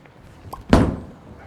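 A DV8 Wicked Collision bowling ball is released onto the lane, landing with a single heavy thud that fades into a short, dull rumble.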